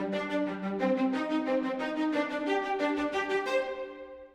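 Programmed MIDI strings with evened-out down-bow and up-bow note velocities, a steady run of rhythmic bowed notes moving through a melodic line before trailing away, moderately quiet and alone.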